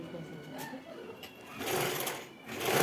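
A sewing machine stitches a blouse back piece to its lining in close, uneven bursts while someone talks over it.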